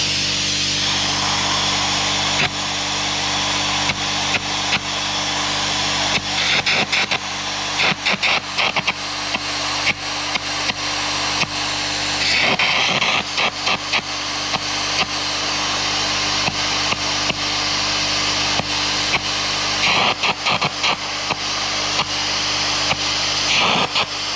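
Carbon arc gouging with an HTP welder at home, a loud, continuous harsh roar and crackle with sputtering bursts and brief breaks, sustained throughout.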